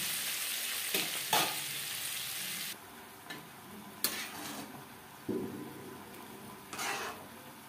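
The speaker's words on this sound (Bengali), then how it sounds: "পেঁয়াজ, রসুন ও টমেটো। ফুলকপির সাথে মিক্স করে দেব।" Onion, garlic and tomato hiss and crackle as they are stirred into cauliflower in a pan, with several sharp utensil scrapes and clinks against the metal between stretches of quieter sizzling, close by and without speech.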